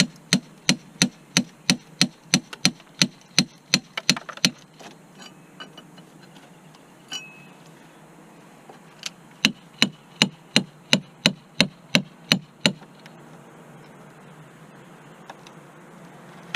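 A hammer drives a wedge into thick silicone sealant to pry off a vent, giving sharp, evenly spaced close knocks in two long runs separated by a quiet pause.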